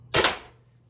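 A single sharp crack from an Umarex HDP50 air pistol, loud and close, with a quick decaying tail.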